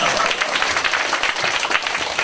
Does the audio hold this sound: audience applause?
yes